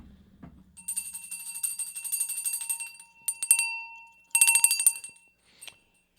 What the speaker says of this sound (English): let me ring the bell so the girl comes in and takes care of us.